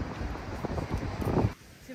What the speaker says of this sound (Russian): Ветер такой дует.